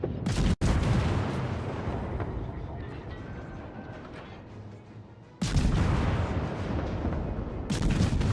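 Destroyer guns firing in the naval video game World of Warships: loud, heavy bursts of booming gunfire with a sustained rumble between them, and sharp fresh volleys partway through and again near the end.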